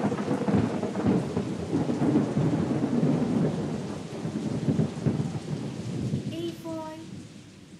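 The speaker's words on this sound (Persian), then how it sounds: "الان بارونم که شروع کرد به باریدن." A thunderstorm rolls in with deep rumbling thunder and steady rain pattering on a surface. Near the end a brief voice exclaims and a few light tonal notes ring out.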